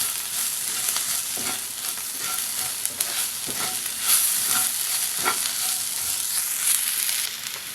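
A spatula stirs ivy gourd egg fry in a hot pan, scraping and tossing through a steady sizzle of frying, close and continuous, with no talking.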